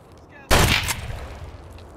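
A single loud gunshot in the video game Escape from Tarkov cracks sharply at mid-clip, then rolls off in a long echoing tail that fades over the following second and a half.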